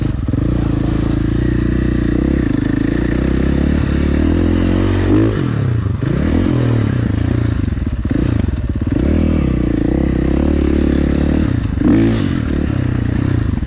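A KTM motorcycle rides through the desert and hits a jump, its engine loud and close, revving and dropping repeatedly with clattering, scraping and thumping from the rough terrain, no talk.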